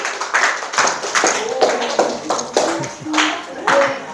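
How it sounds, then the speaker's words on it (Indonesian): Children in a classroom clap for a classmate in short uneven bursts, several separate rounds of hand claps with brief gaps, mixed with young voices chattering underneath. "tepuk tangan untuk Bika"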